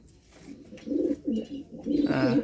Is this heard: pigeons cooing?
yes